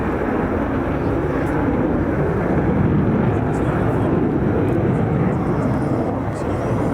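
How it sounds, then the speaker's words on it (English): A military jet on full afterburner reheat roars loudly and steadily at an air show, a dense, continuous rumble that stays powerful throughout, with no talking. "Selecting full reheat, the aircraft accelerating in excess of 20 knots per second."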